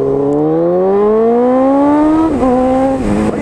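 A Honda CB 1000R fitted with a K&N filter and a GRS exhaust accelerates hard on a highway. Its engine note climbs steadily through the gear, dips at a shift, then pulls again, loud and close with no talk.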